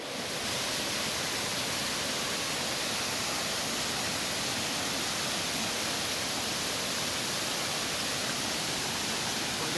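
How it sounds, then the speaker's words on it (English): Steady, dense rush of Kanching waterfall in Malaysia, a crystal clear cascade, filling the scene with constant broadband roar close by, unbroken for the whole stretch and without voices. "there's such a good waterfall here"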